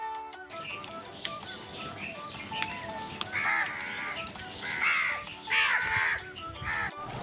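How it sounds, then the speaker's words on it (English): A crow caws in a series of harsh, rasping calls, growing louder in bursts toward the end, heard alone against faint background noise without any talking. "C-R-O-W. Crow."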